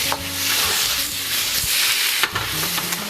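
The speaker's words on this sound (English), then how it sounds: "you just want to stir fry that until your pork is nicely cooked through" Diced pork stir frying in a hot pan, a loud, dense hissing sizzle with intermittent scraping and a sharp knock partway through as it is tossed.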